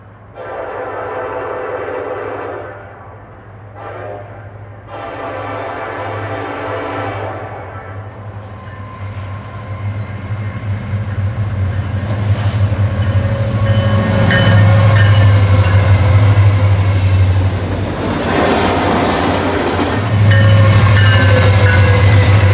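Freight train at a depot led by an EMD locomotive lash-up of two ACEs and a Jeep, rumbling past with a steady low engine drone that builds louder and closer over time, with a train horn sounding across the passage.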